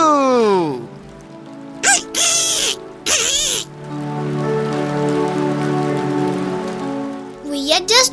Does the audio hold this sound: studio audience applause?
no